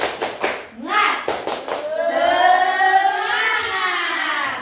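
A group of participants does a rhythmic Indonesian spirit-clap routine, a few sharp claps in quick bursts followed by loud shouted voices chanting together, close and energetic.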